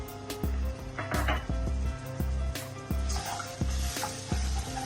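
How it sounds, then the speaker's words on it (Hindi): Crushed garlic fries in oil in a pan with a steady sizzle, while a utensil taps and scrapes in a regular rhythm. "इसको जरा फ्राई करना है।"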